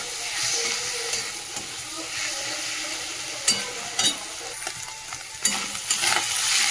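Onions and garlic frying in fish oil, then potatoes added, hissing and sizzling steadily in a pan, with scraping stir strokes and a few sharp crackles near the end, no talking.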